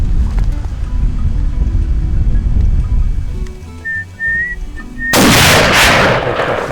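A single loud rifle shot cracks out on a Cape Buffalo hunt in Zimbabwe's Zambezi Valley, following several seconds of quieter outdoor background with faint whistle-like tones.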